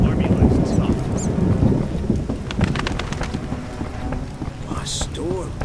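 Thunderstorm in The Witcher video game, with steady rain and a deep rolling rumble of thunder filling the low end, broadband rain patter throughout and a brief sharper crack near the end, fairly loud with no talk.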